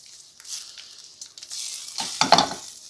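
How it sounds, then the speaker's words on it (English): Shrimp scampi being stirred in a pan with butter, a soft sizzle of frying beneath scraping, clattering stirs that grow busier and louder toward the end, with no voices. "we're going to add in just a little more butter here to finish. We're going to mix this up."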